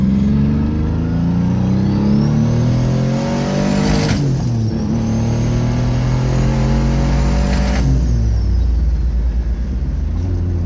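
A car engine revs hard up toward the red line while driving, rising in pitch twice with a sharp drop between pulls, a loud, continuous close-up roar from inside the car.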